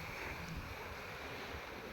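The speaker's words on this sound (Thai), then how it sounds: "มาชมทะเลกัน" Sea surf washing against an island shore, a steady broadband roar of waves with wind buffeting the microphone throughout.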